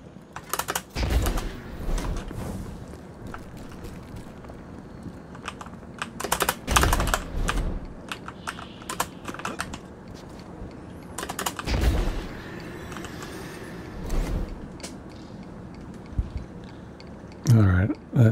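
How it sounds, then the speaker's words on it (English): Rapid bursts of sharp clicking from a bobblehead in Destiny 2, scattered irregularly across the stretch with louder clusters at intervals, heard alongside game ambience. "that noise, that clicking, that's the bobblehead"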